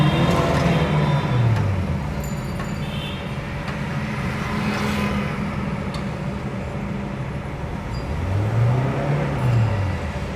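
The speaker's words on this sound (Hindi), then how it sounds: "एक्सीलेटर लेना।" A Honda Amaze car engine fitted with a CNG kit idles and then revs as the accelerator is pressed, with two clear rising-and-falling surges over a steady rumble.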